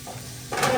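Onions frying in ghee sizzle softly in a pan, and then a spoon stirs them with a brief, louder scraping burst, close up.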